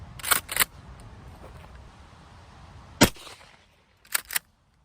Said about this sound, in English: we're gonna see how fast this ammo is shooting